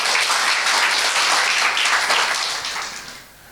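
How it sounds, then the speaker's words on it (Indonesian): Church congregation at a Sunday worship service breaks into dense, loud applause, many hands clapping together, sustained and then fading out toward the end. "Beri tepuk tangan buat Tuhan kita."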